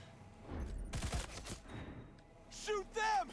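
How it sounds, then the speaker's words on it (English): Gunfire from the video game Cyberpunk: a loud cluster of sharp shots near the one-second mark with a few scattered bursts around it, followed by brief whooshing effects and chirpy game sounds near the end. "We shoot the shooter."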